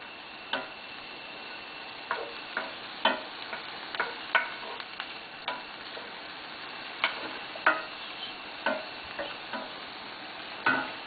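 Peas and mixed vegetables being sautéed and tossed in a pan, with a steady low sizzle broken by a series of sharp clicks and scrapes from stirring, irregularly spaced and fairly close.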